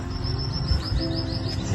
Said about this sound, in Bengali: মাঝে মাঝেই কিচিরমিচির পাখির ডাক কানে আসছিল।